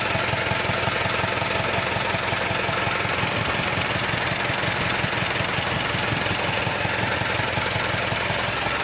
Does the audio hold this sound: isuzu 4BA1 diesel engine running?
yes